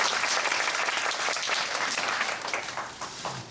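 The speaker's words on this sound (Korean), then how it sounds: "박수 한번 부탁드리겠습니다." A theatre audience at a special-day event for the musical Smoke claps warmly and steadily, dense applause filling the hall and fading slightly at the end.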